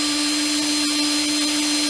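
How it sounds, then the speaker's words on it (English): A power drill fitted with a larger bit bores out holes in timber, giving a steady high-pitched whine with a constant tone, loud and close, running without pause and with no speech. "Just going to use a bigger drill bit just to open these out"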